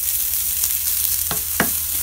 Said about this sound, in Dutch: Ik ben de jackfruit aan het bakken.